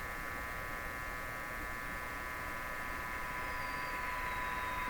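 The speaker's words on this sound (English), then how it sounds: "Just listen, pay attention to the hiss relative to the tone." A Viking EMU61 tube radio gives a steady broadband hiss with a thin sustained heterodyne tone above it, the tone shifting slightly in pitch near the end, without speech.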